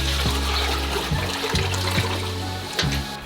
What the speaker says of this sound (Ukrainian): Ставимо дорогу каструлю на піч і вливаємо воду